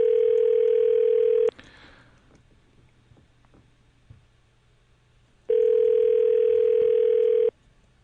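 Telephone ringback tone from an unanswered call, two long steady tones about four seconds apart, loud and clear with quiet line noise between them and no talking.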